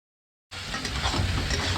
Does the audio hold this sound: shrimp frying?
yes